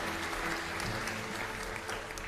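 Steady applause from an audience at a virtual graduation ceremony for the award winners, dense continuous clapping that holds at an even level without any voices over it.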